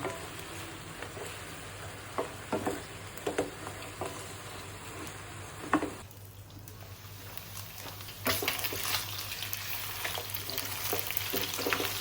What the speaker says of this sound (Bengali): মাংসটা একবারে ভাজা ভাজা করে তুলতেছি।